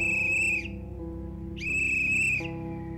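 Two sustained shrill whistle blasts in the video game The Night is Grey, each about half a second to a second long, loud over a low ambient game backdrop.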